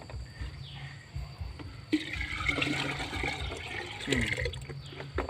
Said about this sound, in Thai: หัวเชื้อเข้มข้นของเรา เทใส่หน่อยนึง